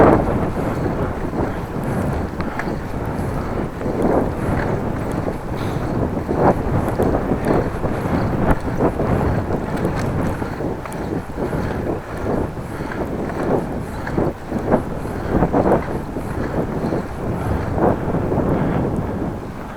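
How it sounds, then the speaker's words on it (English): Strong headwind buffeting the microphone while cycling on a country road between Appingedam and Groningen, a loud continuous low roar with gusty surges that runs for about twenty seconds and drowns out everything else. "Straight into the wind."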